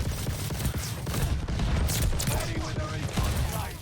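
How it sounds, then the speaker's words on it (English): Marksman rifle fire in Call of Duty Vanguard, with a sustained dense run of shots and impacts that stays loud throughout under a busy game soundscape. "All right, so it's pretty much like your standard marksman rifle."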